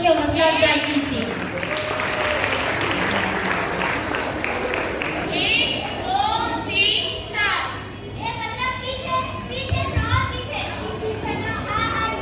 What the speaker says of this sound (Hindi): जोरदार तालियों के साथ छात्रों की हौसला अफजाई कीजिए